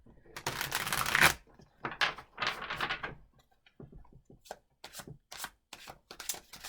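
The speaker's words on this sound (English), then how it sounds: "It's the tarot. Give them a quick shuffle" Tarot cards are shuffled up close in several quick riffling bursts, separated by short pauses, with soft taps and rustles between them.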